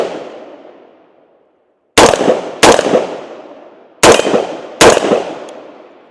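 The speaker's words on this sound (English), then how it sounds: "So now let's go ahead and take a few shots." Four sharp, loud gunshots fired at downrange targets, spaced roughly a second apart in two pairs, each with a long ringing outdoor decay, close by and with no talk.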